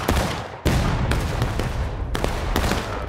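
Rapid gunfire in a first-person shooter game, a dense fusillade of overlapping shots that surges loudly in bursts with sharp onsets, no talking.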